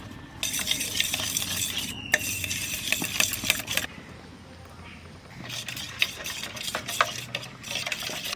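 Spices, salt and soya chunks for a potato soya biryani being mixed in a pan, busy scraping and clinking of a spoon against metal over a soft sizzle, pausing briefly midway before resuming.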